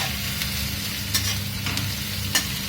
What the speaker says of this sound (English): So now I'll mix my ginger garlic paste and onion